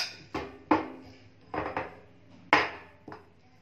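Metal utensil clinking and scraping against a bowl while mixing kunafa for a phyllo dessert, several sharp knocks at an uneven pace, close and clear with no talk.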